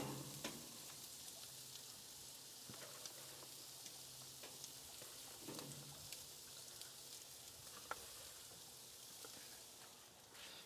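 Broccoli sizzles and fries on a large hibachi griddle of an American Muscle Grill, a steady soft crackle with occasional sharper pops and scraping stirs, fairly faint and without voices.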